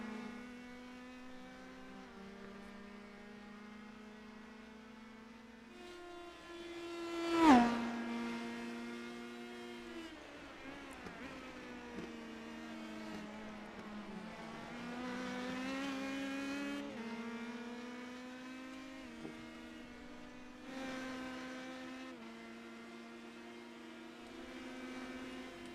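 Indy Pro 2000 open-wheel race cars in the iRacing simulator rev and pull out of the pit area, with layered engine notes rising and falling in pitch, a sharp loud burst near the middle, then sustained overlapping drones.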